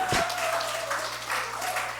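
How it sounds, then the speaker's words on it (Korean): A church congregation applauding during a Sunday service, a brief burst of clapping that fades under a sustained tone and a faint voice. "우리 박수로 격려해 주세요."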